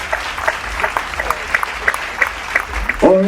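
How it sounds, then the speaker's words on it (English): Awards ceremony audience clapping in a hall, steady crowd applause with a voice briefly rising over it near the end. "A big round of applause for this amazing initiative and an amazing"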